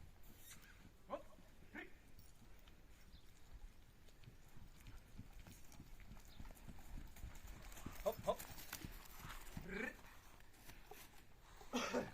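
Hooves of a draft mare clip-clop in an uneven rhythm close by, mixed with shuffling and handling noises, while a person speaks intermittently.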